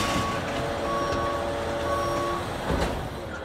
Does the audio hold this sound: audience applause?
no